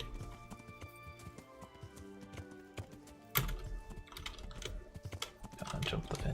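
Horse hooves clip-clopping in the medieval game Kingdom Come: Deliverance, a steady patter of hoofbeats at moderate distance over busy game ambience, growing louder and more cluttered in the second half.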